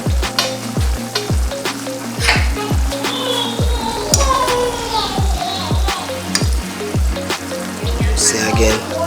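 Ackee and saltfish bubble and fry in a pot, a loud sizzle broken by repeated clanks and scrapes of a spoon against the metal, with steady crackling beneath.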